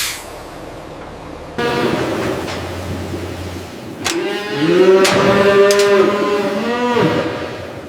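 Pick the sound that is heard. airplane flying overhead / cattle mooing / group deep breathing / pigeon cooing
cattle mooing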